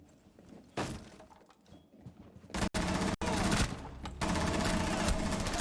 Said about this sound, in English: Where are these gunshots coming from?